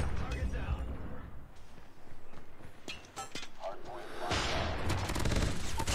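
Gunfire in COD Mobile, rapid cracks and bursts running continuously with footsteps and game noise, loud and busy, with a voice talking over parts of it.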